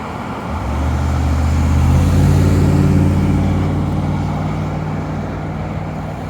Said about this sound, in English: It's going to be noisy here because I'm right beside the highway and a lot of traffic here.